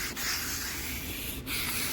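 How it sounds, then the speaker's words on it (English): Steady abrasive scraping of a sanding pad rubbing along a laminate kitchen worktop edge, continuous with two brief pauses, close and fairly loud. "I've got a little sanding pad here, outside pad."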